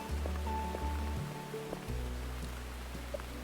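Steady pouring rain in the video game Burnhouse Lane hisses evenly throughout, with low droning tones beneath it.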